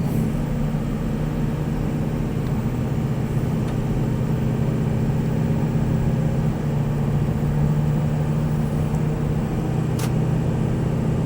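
A 2005 Ford Excursion Limited with a 6.0L Powerstroke diesel and 4WD driving, heard from inside the cabin as a steady low rumbling drone with road noise and no talking.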